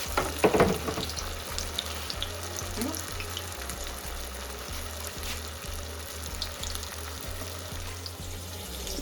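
Food deep frying in hot oil over a medium flame, a steady crackling sizzle close by with a few clattering knocks near the start.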